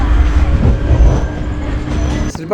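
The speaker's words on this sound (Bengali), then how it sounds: "পানিপথ জংশনে এসে আমাদের ট্রেন এসে পৌঁছলো" Duronto Express train rolls into Panipat Junction, heard from inside the carriage as a loud continuous rumble with rattling wheels and a brief metallic clatter near the end.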